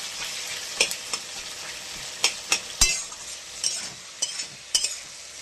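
Bottle gourd cooks in a pan with a steady, bright sizzle while a utensil stirs it, sharp scrapes and clinks against the pan rising above the frying every second or so; no one speaks.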